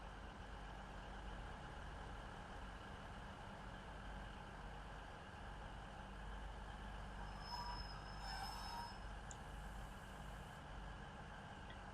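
Train standing at Chester station with a constant, loud rumble of idling diesel engines filling the platform, a brief high squeal and hiss rising near the end; no talk.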